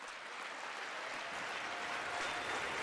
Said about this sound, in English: Oh, no, he's just clapping it